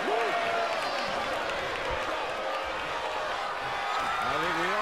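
Arena crowd in the WWE 2K23 wrestling video game cheers and applauds as a dense, continuous roar, steady and loud throughout, with a commentator's voice talking over it.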